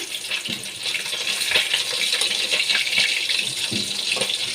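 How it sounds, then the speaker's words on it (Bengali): Fasha fish frying in oil until reddened, a dense bubbling hiss with occasional soft clicks and taps of a utensil, steady and close, with no talking. "ভালো করে আমি মাছগুলো ভেজে নিচ্ছি লাল করে আমি ভেজে নেব মাছগুলো"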